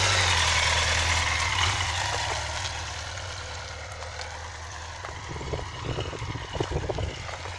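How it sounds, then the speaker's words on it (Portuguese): A Kawasaki KZ1000 police motorcycle engine rumbles nearby, a loud, rough idle that eases slightly and then picks up with uneven throttle blips toward the end. "Mas a moto é bacana, ó. Barulhão de ninja."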